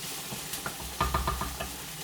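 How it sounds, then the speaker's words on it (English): Onions frying in a pan until golden, a soft continuous sizzle with a few clustered stirring scrapes and taps near the middle, close and fairly quiet. "you just fry them until the onions have gone a little bit golden"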